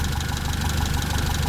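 A motorcycle engine idles steadily and close by, a low, even rumble with a faint knocking rhythm, running alone without any voices, after an NGK long-tip spark plug set was cleaned and fitted.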